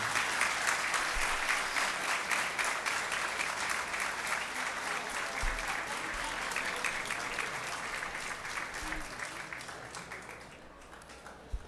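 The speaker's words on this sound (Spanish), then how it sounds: "fuerte aplauso para el presidente de la Cámara de Representantes." Sustained audience applause for the president of the Chamber of Representatives at a plaque unveiling at the Capitol, steady and even throughout, slowly tapering near the end.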